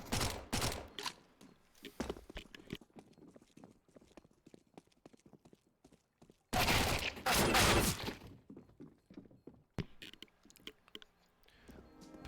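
Rapid bursts of SMG fire in a competitive 5v5 Counter-Strike match, clattering in quick volleys with one loud, dense spray midway, alone without talk.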